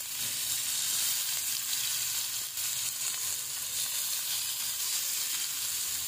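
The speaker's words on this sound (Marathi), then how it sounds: "आणि ते मस्त असे क्रिस्पी फ्राय करून घ्यायचे, थोडं थोडं तेल टाकून" Semolina-coated cauliflower fries in a little oil for a Goan gobi fry, giving a steady, even sizzle that stays close and continuous with no talking.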